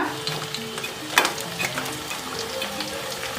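Ribbon pakoda frying in hot oil gives a steady, dense sizzle and crackle throughout, with a few louder pops and stirring scrapes, close and without talk.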